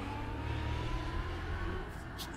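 A small geared postal delivery motorbike of 1980s–90s style rides past on a street, its engine giving a steady mid-pitched drone over a continuous background rumble.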